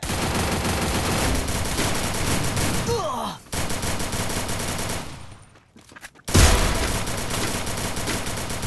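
Loud, continuous gunfire from a first-person shooter game, with rapid bursts and a sharp brief drop-out midway before firing resumes at full intensity.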